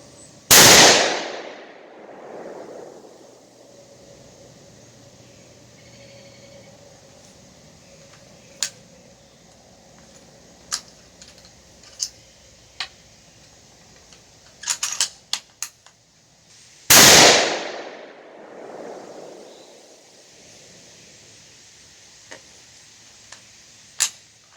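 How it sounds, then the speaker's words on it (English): Scoped rifle fires two loud, sharp shots about sixteen seconds apart, each with a long rolling echo outdoors, separated by faint small clicks and ticks. "I'm going to shoot another group just to see how it does"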